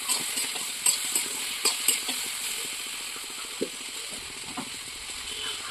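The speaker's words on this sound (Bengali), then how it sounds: "তো মশলাটা মোটামুটি ভাজা ভাজা হয়ে গেছে।" Spices frying and being stirred in a pan with a little sugar added, a soft steady sizzle broken by several sharp scraping stir strokes near the start and a few later ones, with no talk.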